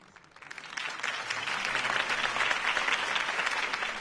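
Crowd applause swells after a campaign speech in the Batman Telltale game, a broad dense clapping that builds over the first second and then holds steady and loud.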